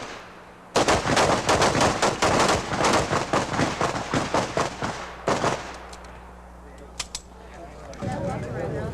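Rapid pistol gunshots crack out in a dense, fast volley at a 1986 combat shooting tournament, loud and near, thinning to a few scattered shots before background chatter and crowd noise resume.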